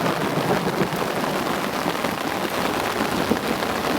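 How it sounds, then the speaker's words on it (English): Heavy rain hammers on fishing umbrellas during a downpour, a dense, steady drumming hiss held at the same loud level throughout, with no voices. "As you'll no doubt hear by the beating on the umbrellas,"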